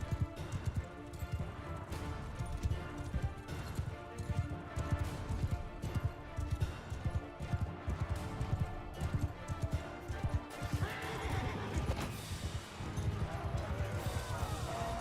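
Horses galloping in the game Bannerlord, a fast, busy clatter of hooves with thuds and crashes running throughout at moderate level, set against steady game background noise.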